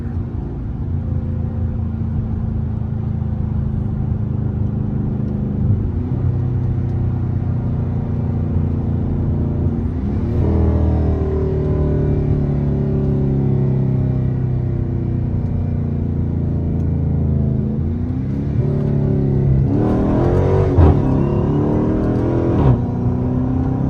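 A Chrysler 300S with a 5.7 V8 accelerates hard along backroads, its loud, deep exhaust rumble rising and falling through paddle-shifted gear changes, with a steady roar from the cabin.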